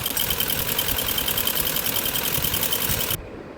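A sewing machine stitches a drawstring channel on a salwar, running in a fast, even mechanical whir with a rapid rhythmic clatter, then stopping abruptly near the end.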